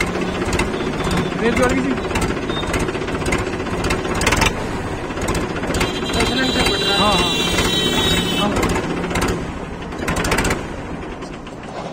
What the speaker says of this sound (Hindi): साइलेंसर में हल्का सा फॉल्ट है, इस वजह से थोड़ी सी आवाज मिस कर रहा ट्रैक्टर